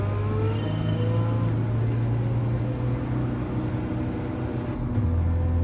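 A rear-engine Volkswagen Beetle drives in Gran Turismo 7, its engine a steady, sustained low drone with faint rising whine as it cruises, loud and close with no talk over it.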